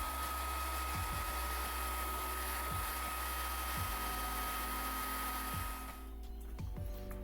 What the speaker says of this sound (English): I'll give it a quick blast with the hairdryer, so block your ears.